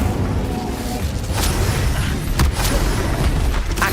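An Incendio fire spell is cast in Hogwarts Legacy, with booming, whooshing bursts and sharp crackling hits over a dense, loud game soundscape.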